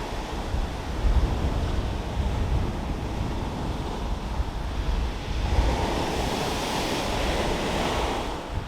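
Strong wind buffets the microphone at the coast near Thurlestone Beach in South Hams, Devon, a continuous roaring rush mixed with crashing surf that swells louder partway through.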